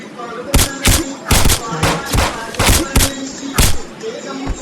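Gunfire in the video game Lone Wolf: a series of sharp, loud shots in irregular bursts, roughly eight cracks over a few seconds, with a voice speaking at points between them.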